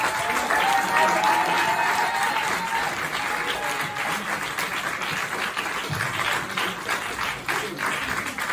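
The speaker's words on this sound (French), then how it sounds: "Faites du bruit pour notre dernier finaliste, notre dernier participant de ce soir, Thomas Poulot." A slam poetry audience applauding and cheering for the final finalist of the night, dense sustained clapping from a full crowd that fades slightly toward the end.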